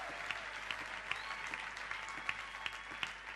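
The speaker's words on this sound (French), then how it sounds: "Nous acclamons en applaudissant très fort le Seigneur" A church congregation claps steadily and vigorously in praise of the Lord, a dense, even wash of applause from many hands that holds at a moderate level throughout.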